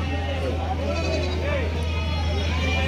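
Goats and young kids bleat with wavering calls at a busy Thursday goat market in Warangal, heard over constant crowd babble and a steady low hum.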